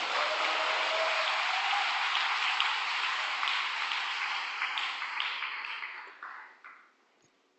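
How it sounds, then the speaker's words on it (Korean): A church congregation applauds young second-generation members after their praise and testimony, steady clapping from a crowd that tapers off to a few last claps and then silence. "격려의 박수를 보내주시면 감사하겠습니다"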